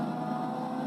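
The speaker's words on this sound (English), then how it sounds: "it gets drowned out by the sound of the engine, of the racing" Race car engine in Forza Motorsport 6 at the Catalunya circuit, a steady droning hum that holds at an even, moderate level for under a second.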